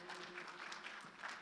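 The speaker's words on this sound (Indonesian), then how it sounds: "sekali lagi kita berikan tepuk tangan untuk" A brief burst of audience applause at a seminar on Islamic wealth management, dense steady clapping from a seated crowd, moderately distant and fairly quiet.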